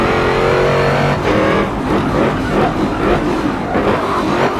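A Porsche race car's engine revs hard in a racing game, a loud continuous snarl rising and falling through gear changes with no talk over it.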